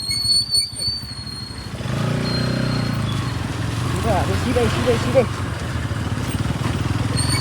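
A Bajaj Pulsar NS200 motorcycle runs with a steady engine drone throughout the ride, with someone speaking briefly over it at the start.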